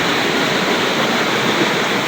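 Dibulo Falls in Dinapigue, Isabela, pouring as a steady, loud, unbroken roar of rushing water that fills the whole stretch with no voices over it.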